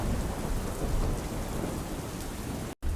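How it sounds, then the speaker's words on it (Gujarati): Heavy rain pours steadily across Banaskantha district in Gujarat, a dense, continuous hiss with low rumbling underneath, close and loud, broken only by a brief dropout near the end. "બનાસકાંઠામાં સાર્વત્રિક વરસાદ વરસ્યો।"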